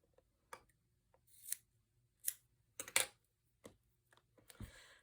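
Scissors trimming the ends of twine for a paper-craft winter tag, heard as several quick, close, crisp snips separated by short silences in a quiet room.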